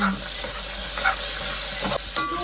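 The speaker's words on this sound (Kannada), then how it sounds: "ಈರುಳ್ಳಿ ಜೊತೆ ಬೆಳ್ಳುಳ್ಳಿ ಹಾಕ್ತಾ ಇದ್ದೀನಿ." Onion and garlic fry in a pan with a steady, close sizzle and hiss, broken by a few scraping stirs over about two seconds.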